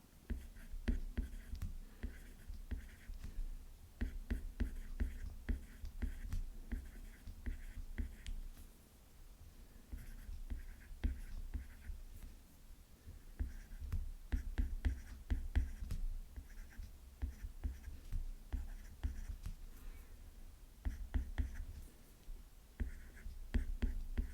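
Pen or pencil writing an English example sentence by hand on paper, close and steady scratching strokes with short pauses between words, continuing throughout with faint breathy background.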